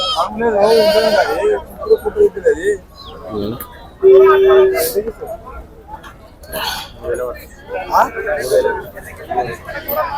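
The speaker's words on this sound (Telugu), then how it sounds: "పెద్దగానే ఉన్నాయి మేకలు" Several goats bleat loudly and repeatedly up close, their wavering cries overlapping amid people talking in a busy market-like setting.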